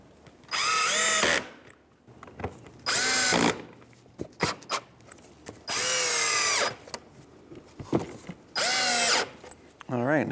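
A power drill drives Phillips screws into the front bumper cover of a 2015-2019 Hyundai Sonata in four loud, close bursts of a few seconds each. Quiet clicks and handling noises fall between the runs.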